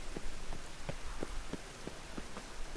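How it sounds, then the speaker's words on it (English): Steady hiss of falling rain in the video game The Witcher III fills the scene, with soft, evenly spaced thuds pattering through it like footsteps on a wet surface. "And it's raining again."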